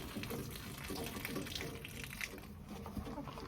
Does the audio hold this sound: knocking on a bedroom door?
no